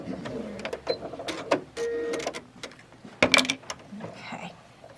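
A home sewing machine runs briefly in a steady whir while stitching quilt block pieces for a pinwheel sampler block, surrounded by clicks, fabric handling and knocks at close range.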